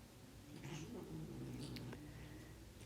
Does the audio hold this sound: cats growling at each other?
yes